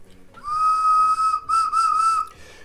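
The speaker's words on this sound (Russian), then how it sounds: "Ну-ка, вот сейчас должен хорошо свистеть" A handmade Khludnevo clay whistle is blown close by in two sustained, pure high-pitched tones with a short break between them, loud and clear against a quiet background.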